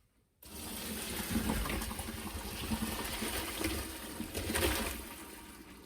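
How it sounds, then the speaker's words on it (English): Pasta water is drained from a pot, pouring steadily in a continuous splashing rush for several seconds, close by, with a slight surge toward the end. "Gonna empty my pasta water."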